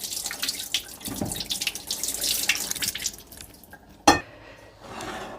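Red fish is gently rinsed by hand in a bowl of clean water, giving soft, close sloshing and trickling with a few drips and a brief sharper splash near the end.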